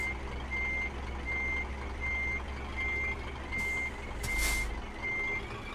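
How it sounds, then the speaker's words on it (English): A truck's reversing beeper in Euro Truck Simulator 2 sounds steady, evenly spaced beeps over a low engine rumble, and a short hiss of air brakes breaks in near the end. "Beeper coming on."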